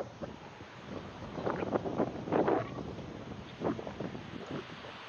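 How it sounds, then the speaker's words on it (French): A north wind gusts against the microphone in uneven rushes, rising and falling with a couple of stronger blasts, over a low rumbling background, at a feeder fishing competition. "j'ai un vent du nord, donc il souffle de gauche à droite"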